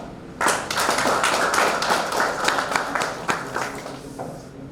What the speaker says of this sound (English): let us give a heavy clap for them